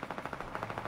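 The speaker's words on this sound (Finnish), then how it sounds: "Nyt kuuluu ampumista jossain." Rapid bursts of gunfire in the video game Fortnite, a quick rhythmic string of shots about ten per second, moderately loud and steady without any voices.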